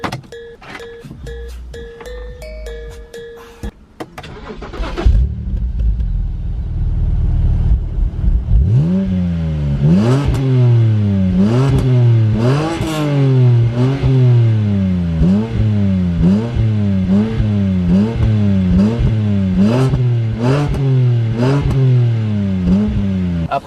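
A BMW 1 Series coupé with M pack and dual exhaust starts up, then revs repeatedly, each blip rising and falling in a steady series of loud, close engine roars.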